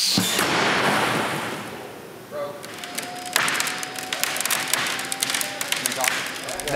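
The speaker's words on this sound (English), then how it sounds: "we're gonna fire one more shot from the impact cannon" A sharp impact-cannon shot thuds against an Andersen window during pressure testing, followed by a steady hiss and rattling clatter that continues under faint background noise.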